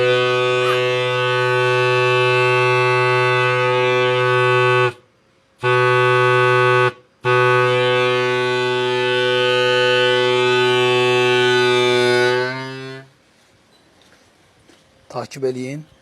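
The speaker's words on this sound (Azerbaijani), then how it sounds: "Və nəticə olaraq əldə etdiyimiz gəmi siqnalı" A homemade ship horn signal sounds a loud, steady, buzzy harmonic blast, briefly broken by two short gaps, then sustained for several seconds before cutting off. Faint scattered noises follow.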